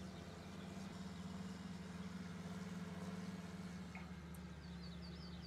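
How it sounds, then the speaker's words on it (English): A tractor engine idles with a low, steady hum and faint rhythmic pulsing in the Farming Simulator 19 video game, quiet and unbroken with no talking. "We'll get this tractor here going."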